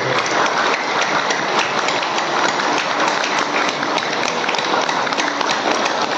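Loud, sustained applause from a crowd, a dense wash of clapping that stays steady and unbroken for several seconds.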